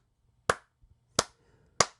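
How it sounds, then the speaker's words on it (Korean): A single person claps, giving three sharp, close hand claps spaced evenly apart in an otherwise quiet room. "딱 박수는 한 5번 딱 쳐야 됩니다."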